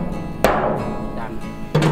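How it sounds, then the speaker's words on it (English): Two sharp, loud knocks about a second apart as a hammer drives a valve into a water tank pipe, with a low background hum between them. "insert it and then hammer it."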